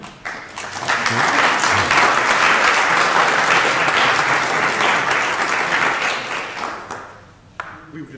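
Sustained, dense applause from a lecture audience at the close of a Williams Institute lecture, filling the room at steady volume for several seconds before thinning out near the end.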